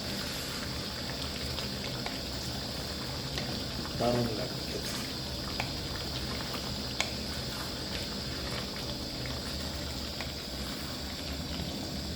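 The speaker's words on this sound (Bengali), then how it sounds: "মাংসটা যা ফুটছে বন্ধুরা" Chicken and potato curry (Bengali aloo jhol) bubbling in a pot, a continuous rushing simmer running throughout while someone speaks briefly over it.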